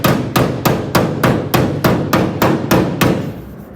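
A body hammer taps metal body panels on a 1959 Ford Galaxie during rust repair, giving about ten sharp, evenly spaced metallic strikes up close. Each blow rings briefly before the next, with no voices.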